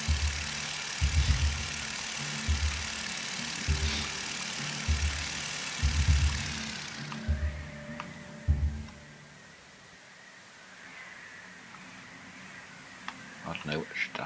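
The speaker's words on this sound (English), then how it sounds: "Zoom out a little bit, we won't get the engine noise quite so badly." A vehicle engine in the video game TerraTech chugs in loud, rhythmic low pulses for several seconds, then drops away to quieter game sounds with scattered clicks, while someone talks over it.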